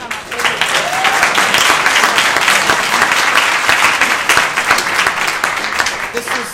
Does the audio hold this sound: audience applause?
yes